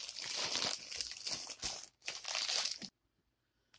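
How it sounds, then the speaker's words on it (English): Crinkly plastic packaging holding dolls is torn and crumpled open in close, loud rustling bursts with a short break midway, then it stops abruptly into quiet. "let's see if I can rip this open now."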